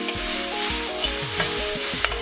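Ground spice paste being stirred and fried in a pan for achinga (long bean) thoran. A close, steady sizzle with brief stirring scrapes runs under background music.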